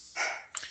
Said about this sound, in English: I have some dogs and they're excited for a moment if you hear the barking in the background.